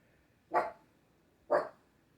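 Two single dog barks about a second apart, moderately loud and close, with quiet between them.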